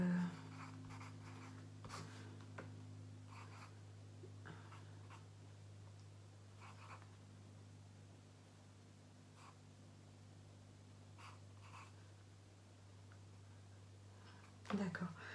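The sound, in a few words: writing on a sheet of paper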